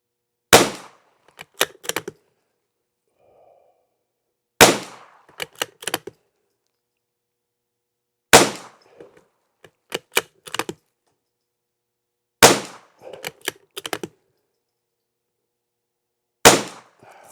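Five sharp rifle shots from CCI Standard Velocity rimfire ammunition lubed with WD-40 silicone spray, spaced about four seconds apart, each loud crack followed by quieter clicks and metallic clatter of the action cycling.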